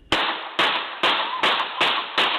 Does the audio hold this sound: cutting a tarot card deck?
no